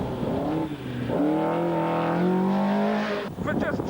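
A 450-horsepower rear-wheel-drive TVR Tuscan race car engine revs with a strong, sustained harmonic roar that climbs in pitch through the middle, then cuts off abruptly near the end.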